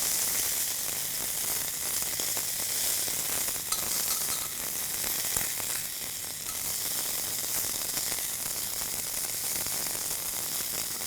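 Sealed beef cheek pieces go into a pan with onion, setting off a steady, fairly quiet sizzle of frying that runs continuously with faint scraping and shifting underneath.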